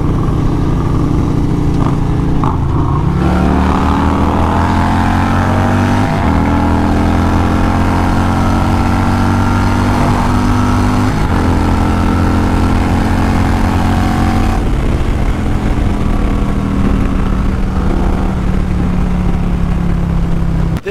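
A Harley-Davidson Stage 4 upgraded performance bagger motorcycle accelerates hard during a street pull, its loud, close engine roaring continuously and rising in pitch through several gear shifts, with no talking.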